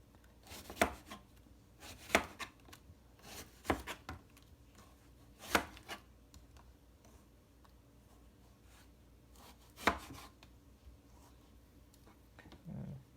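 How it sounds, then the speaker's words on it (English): A knife slicing a vegetable on a cutting board, five or six sharp, separate chops spaced a second or two apart, with a faint low thud near the end and no talk. "Next, you want to slice it into, make it into multiple slices"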